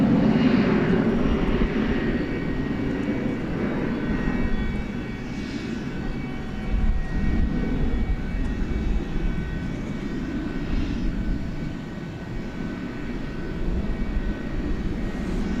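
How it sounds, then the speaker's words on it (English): A UPS Boeing 747 at DFW Airport at night, its engines a continuous moderate roar that swells and eases over the span, heard from a distance without talk. "we are now on the lookout for UPS flight 773 off to"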